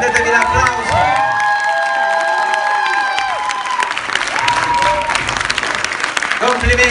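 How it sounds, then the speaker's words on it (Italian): Loud audience applause and cheering for a show-dance group at a talent academy event, with whoops and high excited shouts, some sounding like children, over continuous clapping close by. "Prendetevi l'applauso"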